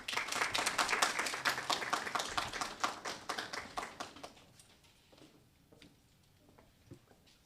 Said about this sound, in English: give her another round of applause for that warm welcome